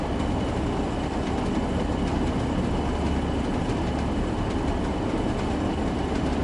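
A Class 101 diesel multiple unit runs steadily in the Train Sim World 2 game on a Northern Trans Pennine route, a continuous close engine drone and rolling rail noise with faint rhythmic clicks, no voices.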